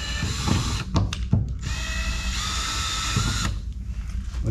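Power drill spinning a screw in a wooden boat frame, short bursts of whirring motor with a few sharp clicks, then a longer steady spin that stops abruptly, close and fairly loud.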